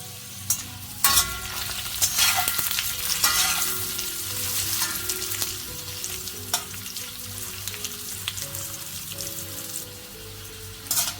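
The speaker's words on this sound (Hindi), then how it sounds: "तो ये फ्राई हो चुका है और मैं इसे फटाफट ऑयल से निकाल देती हूँ।" Taro (arbi) pieces seasoned with turmeric and salt frying in hot oil, a steady dense sizzle throughout with occasional utensil clinks and scrapes, close and fairly loud, no talking.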